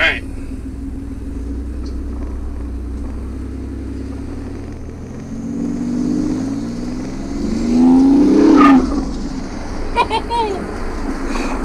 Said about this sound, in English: And the turbo is so loud